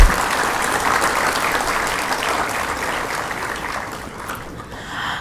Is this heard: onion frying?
no